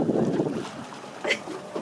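Boat on the sea off the French Riviera, wind buffeting the microphone and water rushing past in a steady, moderately loud wash, with faint voices briefly under it.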